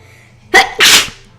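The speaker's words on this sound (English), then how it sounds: "I gotta sneeze." A single sneeze bursts out nearby, a brief sharp intake followed by a loud explosive release, standing alone against quiet background with no talking.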